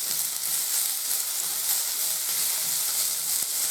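Vegetables are stir-fried in a pan, making a loud, continuous sizzle and hiss that stays steady throughout, with no voices.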